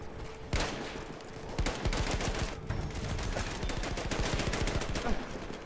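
Rapid bursts of automatic gunfire in the video game Battlefield 1, loud and nearly continuous with sharp individual shots cracking through a dense battle din.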